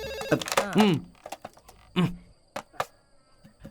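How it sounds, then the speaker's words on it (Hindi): Telephone ringing indoors with short bursts of ringing, interleaved with people talking loudly nearby and a few clicks and thumps. "फोन आ रहा है।"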